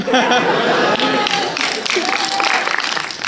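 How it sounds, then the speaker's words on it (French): A small group claps at a film preview screening in a Marseille cinema, moderately loud and close, mixed with murmured chatter and talk. "Merci pour les 4 personnes qui ont applaudi."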